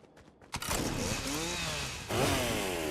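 A chainsaw in Fortnite roars to life and runs at a steady high rev, then surges louder near the end, loud and close amid game effects.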